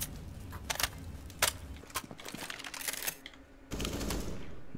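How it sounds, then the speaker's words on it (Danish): Gunfire in the video game Counter-Strike Wingman: a burst of sharp shots and rapid crackling volleys, uneven in rhythm, ending in a louder sustained stretch of noise. "Der var et skud."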